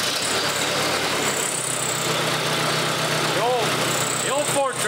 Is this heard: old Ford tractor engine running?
yes